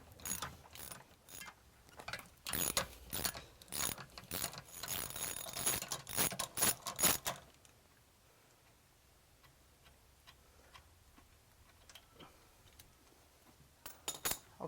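A ratchet with a 5/8 socket on a long extension loosening bolts on a Bravo III boat outdrive, rapid clicking ratchet strokes in bursts for about seven seconds, then quieter scattered ticks and clinks.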